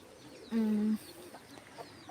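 A single short, clear call from a chicken in a home flock of spotted hens, turkeys and Salem fowl, lasting under half a second against a quiet background.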